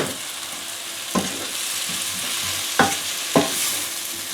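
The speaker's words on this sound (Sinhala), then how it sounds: "දැන් මේක හොඳින් කලවම් කරනවා. දැන් එකතු කරනවා උරුමස් ටික." Pork being stir-fried and mixed in a pan for pork devil with oyster sauce, with a constant loud sizzle and three distinct scraping clanks of the spatula, close by with no voices.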